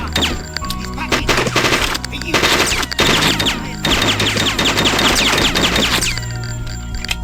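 Automatic gunfire from the Hitman: Codename 47 video game, loud, dense bursts of machine-gun fire rattling almost continuously for several seconds with brief gaps, close and harsh.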